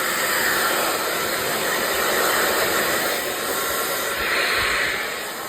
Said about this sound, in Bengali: আর এখন হচ্ছে হেয়ার ড্রাই দিয়ে দিয়েছে